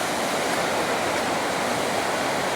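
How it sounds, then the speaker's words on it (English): Water rushes over the weir on the River Avon in Bath as a dense, steady roar, loud and continuous, with no voices. "This is what they call the weir."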